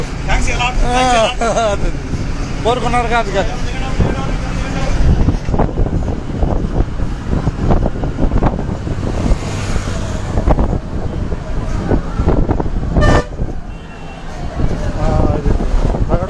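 Riding aboard a moving Cherukupalli bus, with engine rumble and road and wind noise throughout, loud people talking over it, and a sharp horn blast near the end.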